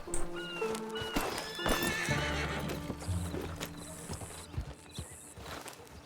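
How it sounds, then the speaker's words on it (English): Horse in the video game Red Dead Redemption 2, with a clear neigh, a snort and a run of clip-clopping hooves and harness jingle, up close amid light mechanical clicks, with no one talking. "You want me to move my horse? He's sort of in the way."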